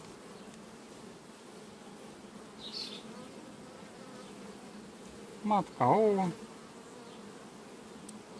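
Honeybees in an open hive colony give a steady low buzzing hum throughout. Someone speaks briefly over it near the end.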